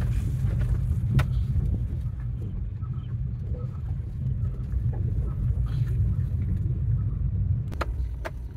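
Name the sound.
car engine running while driving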